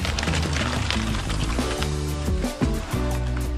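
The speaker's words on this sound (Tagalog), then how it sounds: "So ayan, nagbubuhos na sa tie beam." Wet concrete sloshing and pouring onto a tie beam nearby, mixed with the steady drone of a machine engine and brief shifts in pitch.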